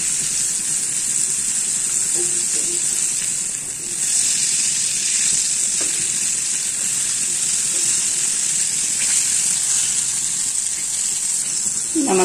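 Broasted chicken pieces fry in hot oil in a small pan, a steady close hiss and crackle running throughout, with occasional soft pops and faint clinks of handling.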